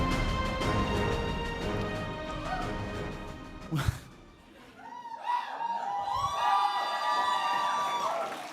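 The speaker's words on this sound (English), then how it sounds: "give our winner a round of applause as they head to the stage." Audience applause and cheering at the Golden Joystick Awards 2023 ceremony as the game winner heads to the stage, a loud, dense crowd swell with whoops, then a brief lull before a second burst of clapping and cheers.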